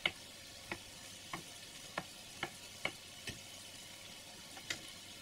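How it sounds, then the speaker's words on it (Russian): Smoked bacon frying with onion in a pan over medium heat, a quiet sizzle punctuated by sharp, regular pops and ticks roughly every half second, close up with no talking. "Бекон жарится с луком."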